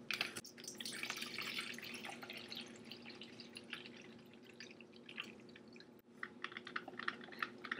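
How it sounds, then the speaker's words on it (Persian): Water heats in a teapot while mint tea brews, gurgling softly like a samovar with quiet crackling bubbles and drips, steady and faint, with no voices. "من این ظرف رو دوست دارم به خاطر اینکه مثل سماور غلغل میکنه"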